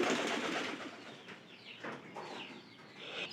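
Pigeons coo nearby in several soft, rolling calls, with a few clucking sounds mixed in and no voices.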